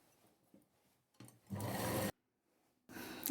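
A sewing machine double-stitches a long frock, with short bursts of fast whirring stitching separated by pauses and small handling clicks.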